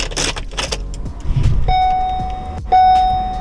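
A Porsche Cayenne is switched off and restarted, with a low steady rumble, short dashboard chime tones and a louder surge near the end. A brief muffled clatter comes early, close inside the cabin, with no talk.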